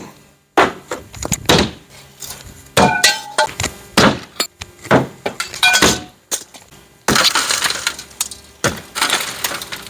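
Window glass struck by thrown tools, a screwdriver finally breaking through: a series of sharp separate impacts and clinks, ending in a burst of shattering glass, close and fairly loud.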